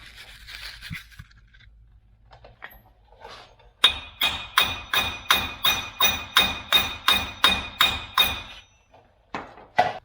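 Steady metallic hammer blows ring out close by on the axle end of a 2011-14 GMC 2500HD during wheel bearing removal, about a dozen evenly spaced strikes with a bright clanging tone, then a pause and one more hit.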